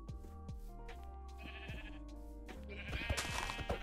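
Sheep in Minecraft bleat in several short, wavering calls, close and clear, with blocky game sound effects between them and no talking.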